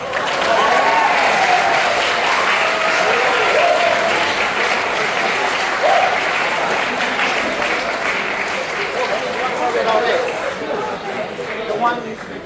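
A large audience at a commencement dinner bursts into sustained applause and cheering for Japan, loud, dense clapping that continues steadily throughout with some voices mixed in.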